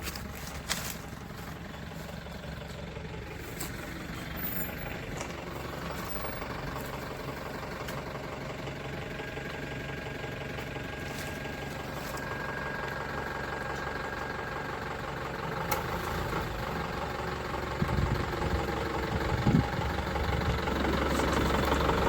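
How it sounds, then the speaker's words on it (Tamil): Steady traffic rumble from vehicles and trucks on a large nearby road in a rural plot near Nagercoil, a continuous mid-distance engine drone with a few louder passes toward the end and no talking. "பக்கத்தில் பெரிய ரோடு வண்டியெல்லாம் போகுது டம்பெல்லாம் போகுது"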